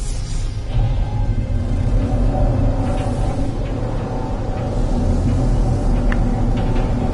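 A storm in the video game No Man's Sky, a continuous low rumbling roar with a dense wind-like wash, steady and fairly loud from start to finish.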